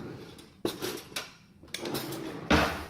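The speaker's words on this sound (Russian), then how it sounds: "Сейчас мы проткнем вилкой." A fork pokes into a baked squash in a kitchen: a few distinct, close clinking and scraping metal taps on a dish, separated by short pauses.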